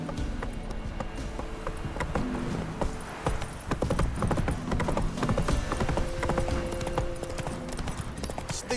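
Horse hooves clip-clopping at a steady walking rhythm in the video game The Witcher 3, fairly close and continuous, with faint game ambience and a brief voice.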